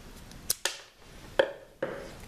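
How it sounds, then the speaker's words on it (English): A damaged end being cut off a rubber breather hose from an old mini bike, four sharp snipping clicks spaced irregularly, close and quiet with no talking. "so I'm just going to cut the bad part off."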